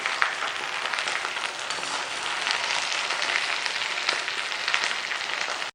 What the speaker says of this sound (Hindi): इसको अच्छी तरह फ्राई करना है।